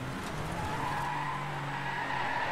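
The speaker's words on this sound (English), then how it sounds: "Drift, drift, drift." Tires skid loudly and continuously as a car drifts in the DriveClub racing game, a sustained squeal held over steady engine drone for the whole moment.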